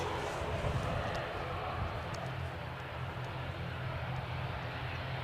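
An ATR turboprop airliner engine drones as a broad, steady roar at an airport on a windy day, heard at a distance under wind noise without clear talk.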